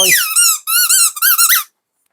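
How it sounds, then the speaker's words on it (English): A plastic squeaky dog toy shaped like a knotted rope is squeezed several times, giving a quick run of loud, close, high-pitched squeaks with brief gaps, then silence. "And we also get this, which is a squeaky toy."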